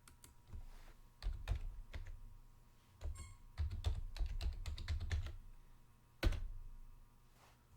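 Keys tapped on a computer keyboard to enter a password and log in, in quick uneven bursts of clicks with short pauses, close up and moderately quiet, no talking.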